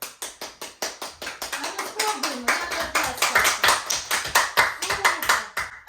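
Children in a music classroom clap their hands loudly together in a game, a rapid run of sharp claps that builds in density, with a teacher's voice speaking briefly over them.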